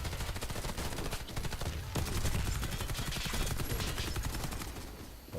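Rapid automatic gunfire from the multiplayer shooter Warface, dense and loud bursts of shots running continuously through the whole stretch with no pauses.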